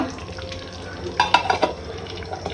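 A spoon stirs eggs just added into a frying pan while the oil sizzles steadily, with a few clinks and scrapes against the pan in the middle. No one speaks.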